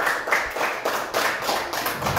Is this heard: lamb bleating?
no